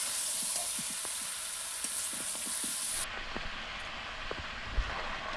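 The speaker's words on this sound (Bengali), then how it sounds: "এখন এটিকে খুব ভালো মতো মিশিয়ে নেব" Chicken with turmeric powder, tomatoes and vegetables is stirred in a hot pan for a stew, with a broad sizzle and scattered scraping clicks of the spoon, close up and without voices.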